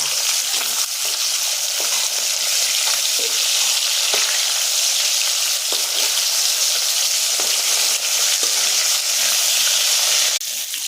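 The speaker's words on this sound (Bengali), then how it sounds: "এবারে পিসগুলো ভেজে নিই" Steady, loud sizzling of fish frying in hot oil, a dense crackling hiss running throughout with occasional sharper pops and no voices.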